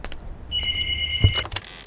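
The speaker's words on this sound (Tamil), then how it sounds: "எவ்வளோ நேரம் ஃபோன் அடிக்குது?" A telephone rings in a film scene, one short electronic tone lasting about a second over low background rumble and brief clunks.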